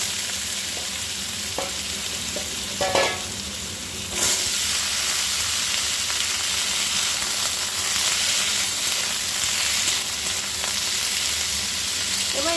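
Potatoes are fried and stirred in a pan with little oil for a Bengali cauliflower chorchori: a steady close sizzle that swells louder partway through and then holds as a constant hiss, with no speech.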